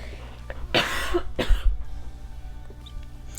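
A single harsh cough bursts out, followed by a second shorter cough, then quiet room noise.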